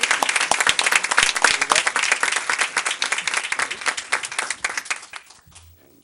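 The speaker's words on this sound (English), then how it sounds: "I'd like us all to recognize them with a round of applause" Audience at a Livonia Public Schools Board of Education meeting applauds grant program recipients: dense, steady clapping from a roomful of people that thins and fades out near the end, leaving a brief quiet tail.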